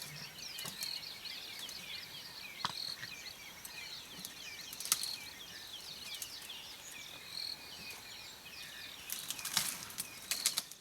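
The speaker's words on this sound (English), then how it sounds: "And an amazing chorus of birds." A dawn chorus of many birds sings and chirps in the African bush around a safari camp, layered calls at moderate distance over a faint, steady insect hum, with a few sharper nearby notes.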